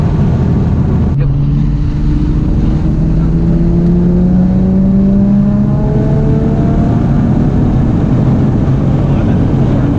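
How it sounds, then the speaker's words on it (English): A 2001 Audi B5 S4 fitted with Tial 770 turbos accelerates hard in fourth gear, its engine note climbing steadily in pitch from a clear gear shift near the start, loud and continuous throughout. "That shift into fourth gear is like."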